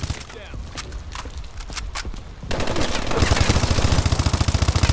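Rapid automatic gunfire from a Call of Duty: Advanced Warfare multiplayer match on the Supremacy DLC maps, starting as a busy backdrop and then rising into loud, sustained rhythmic bursts in the second half.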